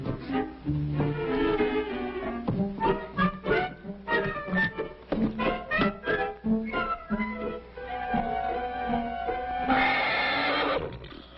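A horse whinnies repeatedly, loud and close, with long shrill neighs and snorty breaths in a rapid, uneven series.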